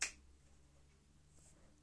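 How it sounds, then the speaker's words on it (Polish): One crisp finger snap at the very start, close and sharp, followed by near silence in a quiet room. "Trzeba jeszcze pstryknąć palcem."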